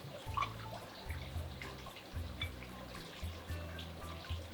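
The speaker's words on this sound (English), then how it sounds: "we're gonna add in 4 ounces of our triple sec" Four ounces of triple sec poured into a margarita pitcher for a mixed berry batch, a soft continuous trickle of liquid, quiet and close, no talking.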